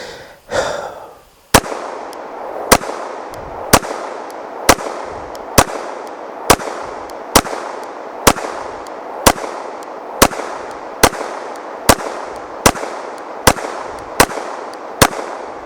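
CZ 75B pistol fired at close range, about fifteen sharp, loud shots in a steady, evenly spaced rhythm, each with a short echoing tail, with no talking.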